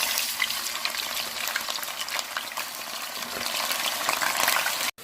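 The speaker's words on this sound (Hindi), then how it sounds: "हाई फ्लेम पे चिकन का कलर चेंज होने तक फ्राई करेंगे।" Chicken pieces fry over a high flame in hot oil in a Peshawari chicken karahi, giving a steady, dense, close sizzle that crackles throughout and cuts off abruptly at the very end.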